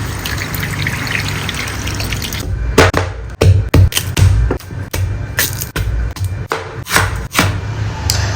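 Raw corn is chopped with a knife on a board in a home kitchen, a series of close, sharp irregular thuds over a faint running-water background, no speech.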